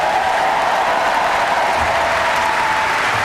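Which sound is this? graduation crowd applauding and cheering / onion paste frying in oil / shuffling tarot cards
graduation crowd applauding and cheering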